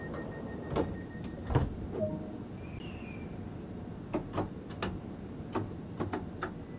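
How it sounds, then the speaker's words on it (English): Train doors close on a London commuter line in Train Sim World 2, with a series of sharp clicks and thuds, brief electronic chirps, and a short warning tone early on, all over a quiet rumbling cab hum. "Wait for them to close, and then we can get going."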